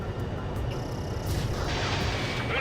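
Anti-aircraft fire in Ace Combat 7 rumbles as a dense, continuous barrage of low booms and rattling bursts, loud and unbroken throughout.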